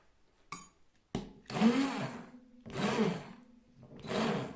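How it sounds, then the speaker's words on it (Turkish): A blender whirs through frozen strawberry ice cream in three bursts, each roaring up and then cutting off, with a couple of clicks before the first run. "çilekli dondurmamızı şimdi blenderdan geçireceğiz"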